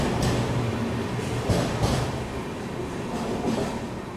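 The Chirimiri Rewa Express passenger train pulling into a railway platform in India, with a steady loud rumble and rhythmic wheel clatter over the rails, close by and without talking.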